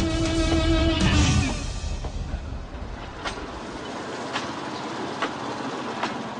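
The Moon Express, a bamboo norry train in Battambang, Cambodia, runs past with a loud engine drone that fades into a steady rumble marked by periodic clacks of wheels over rail joints.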